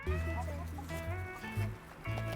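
Turkeys on a farm cluck and gobble in steady, close calls while pecking at food, with no talk over them.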